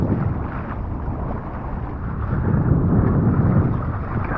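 Wind gusts roar across the microphone as a rider pumps a 4.2m Flow D-Wing parawing in light 9-10 knot wind on the water, producing a steady broadband rumble that swells midway and stays loud.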